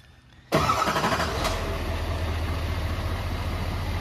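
A 2023 GMC Sierra 3500 diesel pickup cranks over in cold weather and catches after half a second of quiet, then settles into a loud, steady, rumbling idle close by.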